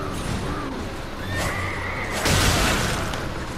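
A horse in the Elden Ring video game neighs in a loud, drawn-out whinny, with a brief burst of game noise near the end and no talking.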